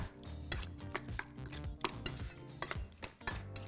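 Tilapia tartar is stirred with ponzu sauce and chives in a bowl, giving quick repeated clinks and scrapes of a utensil against the dish in an irregular rhythm, close and fairly soft.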